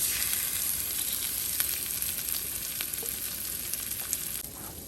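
Salmon and vegetables frying in olive oil in a pan, a loud, steady, continuous sizzle with small crackles and pops throughout, easing off slightly at the end.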